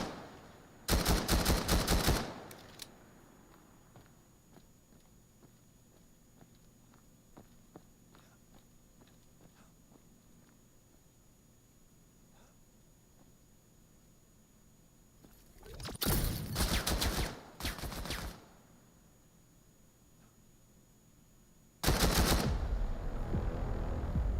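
Gunfire from the VR shooter VAIL during a competitive match, with loud rapid bursts of shots at the start, in the middle and at the end, separated by long quiet stretches of faint clicks and background hum.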